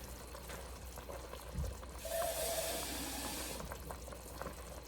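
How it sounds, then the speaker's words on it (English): Water poured into a can while making vegetable soup from leftovers, a brief steady splashing fill lasting a couple of seconds, close by, over a quiet kitchen background. "I've put another half a can of water in there just to make sure that we don't waste anything"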